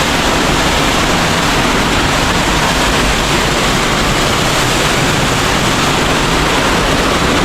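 A waterfall near Lima rushes hard and steadily, a dense, unbroken roar of falling water that fills the whole span at close range with no voices over it.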